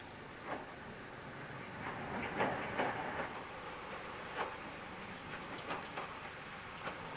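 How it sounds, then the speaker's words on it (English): An evening train from Exeter arriving on a North Devon line, faint distant rolling with soft hiss and scattered light clicks and knocks from the wheels over a low rumble, no talk. "The evening train from Exeter comes in for the last lap."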